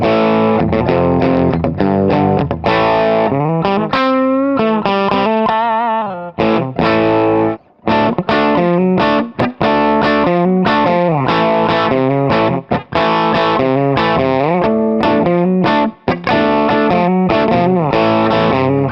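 An electric guitar on its bridge pickup plays loud, distorted chord riffs and single-note runs with choppy rhythm and brief stops, close and up front with no talking.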